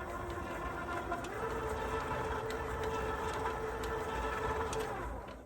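A kitchen mixer on slow speed runs with a steady, moderately loud motor whir and rumble, unbroken for several seconds before it cuts off at the end.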